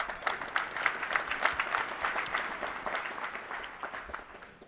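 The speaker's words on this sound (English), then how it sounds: "So let's give her a round of applause," Audience applause at a tech conference keynote on observability, a steady crowd clapping with dense overlapping claps that stays loud throughout and slowly tapers near the end, no voices on top.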